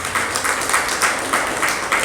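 Audience applause during a Hindi spiritual lecture: a brief burst of many hands clapping in pulsing waves, fairly close and steady, with no speech over it.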